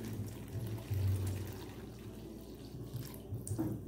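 Water pours from a tap into a pan to cook a sauce for flourless gnocchi, a continuous splashing stream that swells then eases over several seconds, with no talking.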